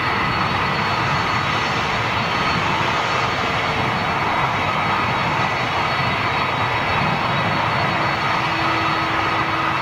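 An Air Europa Streamliner jet airliner heard from home near Schiphol, a steady, loud, broadband engine roar that holds without a break throughout, with no talking.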